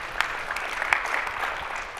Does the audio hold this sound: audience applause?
yes